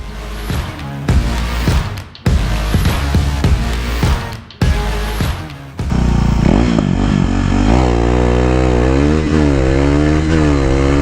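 KTM RC 390 motorcycle on the Lendava racetrack in Slovenia rips through rapid full-throttle upshifts with brief gaps between gears, then settles into a sustained loud, rising engine howl at close range.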